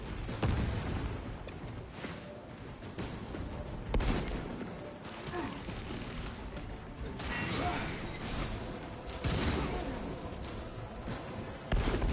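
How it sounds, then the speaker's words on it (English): Combat in the video game Warhammer Space Marine 2: a frag grenade blast and bursts of gunfire with mechanical clanks, loud and busy throughout, with game voices in places. "Frag grenade out!"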